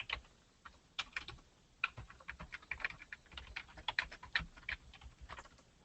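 Computer keyboard keys clicking in an irregular run of quick taps while a comment is typed, soft and close with brief pauses between bursts, no voices.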